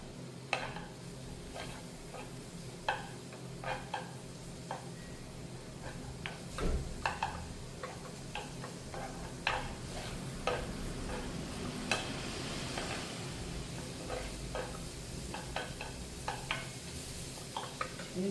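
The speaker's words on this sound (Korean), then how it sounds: "넣으서 익을 때까지 볶아주세요" Onion and a half stalk of green onion stir-frying in a pan before cucumber goes in, with a steady soft sizzle, a low hum underneath and frequent light spatula clicks and scrapes throughout.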